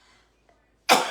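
A single sharp, loud cough bursts out near the end after near silence, preceded only by faint room noise.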